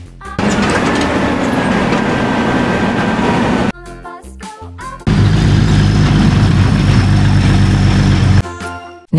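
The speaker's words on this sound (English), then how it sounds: "Garbage truck." A heavy garbage truck engine runs loudly with a low rumble, pauses with a few clanks, then returns deeper and louder.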